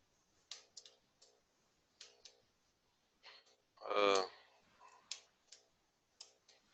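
Keys click on a computer keyboard in short scattered bursts, a few taps at a time with pauses, close and faint, with a brief voice breaking in midway.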